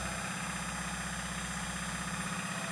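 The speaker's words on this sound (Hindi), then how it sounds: "तो अब स्टार्ट करते हैं। तो रीजनरेशन स्टार्ट हो गया है।" A Tata Ace Gold BS6 engine runs during DPF regeneration, producing a steady, close, even idling drone with a low vibrating hum and no variation in speed.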